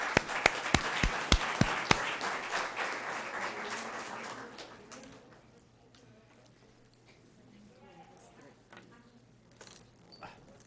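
A string of sharp, loud claps rings out at a school board meeting as honored high school students leave the floor, then quickly dies away into quiet room tone.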